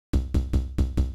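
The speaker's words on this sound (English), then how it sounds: "which is a really lame kick." Five evenly spaced punchy kick drum hits from the initial patch of the Drum Computer virtual drum machine, each a thick, low, boomy thump with a short decay, loud and alone with no talking.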